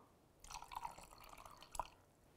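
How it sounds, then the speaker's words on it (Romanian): Water pours into a tall container holding tomatoes and tomato paste in a kitchen, a short faint splashing pour with a few drips, alone and close. "Voi adăuga apa"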